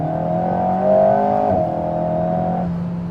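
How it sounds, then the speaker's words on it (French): Mid-engined Alpine A110 revving just behind the cabin, a steady harmonic engine drone that rises in pitch near the one-second mark, dips and settles back, continuous and fairly close throughout without talk. "C'est des voitures comme ça où t'as le moteur juste derrière toi"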